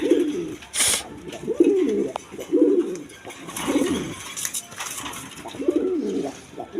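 Pigeons coo up close in several rounded, repeated phrases, with short rustles and flutter-like bursts between them.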